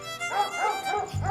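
A dog barks and yips repeatedly in a residential neighbourhood setting, a run of close, fairly loud, evenly spaced barks with a low rumble joining near the end.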